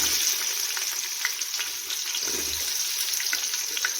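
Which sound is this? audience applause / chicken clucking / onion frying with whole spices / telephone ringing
onion frying with whole spices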